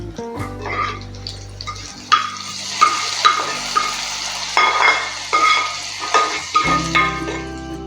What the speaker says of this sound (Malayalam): എന്നിട്ടിത് നമുക്ക് മീൻ കറിയിലേക്ക് ഒഴിച്ചു കൊടുക്കാം.